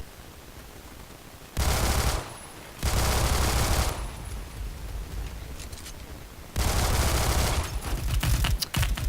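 Full-auto Glock 18 pistol gunfire in the video game Phantom Forces comes in three loud, rapid bursts separated by quieter gaps of background game sound.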